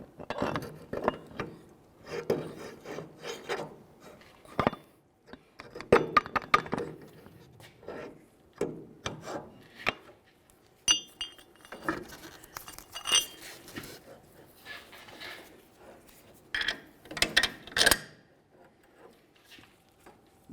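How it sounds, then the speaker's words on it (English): Metal clinks and scrapes as a mounting bolt is pushed through the rear wheel hub bearing of a 2002–2005 Ford Explorer, with irregular close knocks and rattles of parts and tools, no talking. "Put the mounting bolt in through from the rear to the front."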